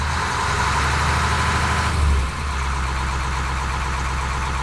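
An old Allis-Chalmers wheel loader's diesel engine runs steady and loud nearby, then gets a burst of throttle and surges briefly before settling into a heavy, continuous drone.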